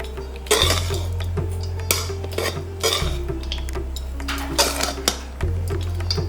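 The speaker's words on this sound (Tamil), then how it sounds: "மறுபடியும் இதை நல்லா கலக்கி விடுங்க" Tamarind rice (puliyodharai) with salt being stirred in a vessel, repeated metal spoon scrapes and clanks against the pot in uneven strokes, close and loud, with a low hum underneath and no voices.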